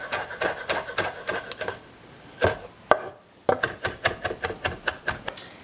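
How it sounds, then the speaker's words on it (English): Rapid, rhythmic knife taps on a cutting board while rough chopping fresh thyme, close and crisp, with a brief pause midway before the quick chopping resumes; no talking. "Just rough chopping, rough chopping."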